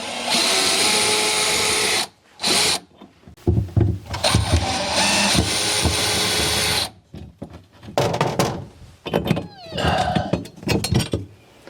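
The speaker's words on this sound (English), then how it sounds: "I'm just going to use my power drill here to" A power drill removes screws while a Samsung refrigerator is being repaired, with loud close whirring bursts, brief stops, and then clicks and clinks of handling parts.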